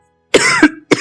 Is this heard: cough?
yes